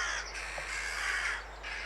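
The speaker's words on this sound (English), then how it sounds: "This greyback crow has spotted one of the dead jackdaws lying at the base of this tree." A hooded crow gives harsh caws somewhere in the trees on an early morning, fairly faint and distant against a steady low hum, with no talk.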